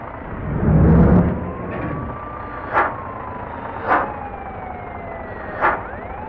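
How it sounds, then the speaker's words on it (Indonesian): An ambulance siren in the Bus Simulator Indonesia driving game wails in a steady, sliding tone, with three short sharp bursts and a low engine rumble early on, and no talking. "Padahal ini ambulannya ini lagi ada suaranya ya, mungkin lagi ada pasien di dalam mobil ya teman-teman."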